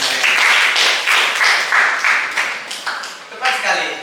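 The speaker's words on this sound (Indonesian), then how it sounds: "Kasih tepuk tangan buat teman saya." A group of listeners gives a round of applause for a presenter in a classroom, with close, crisp clapping in uneven bursts that gradually thins out, then swells briefly once more before fading.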